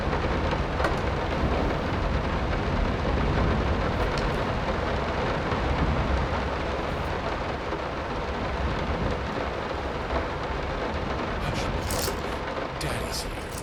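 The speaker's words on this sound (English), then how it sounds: "That rain is very loud." Loud, steady rain with rumbling thunder in the horror game Layers of Fear, a dense continuous roar filling the whole stretch with occasional brighter crackles and no clear pauses.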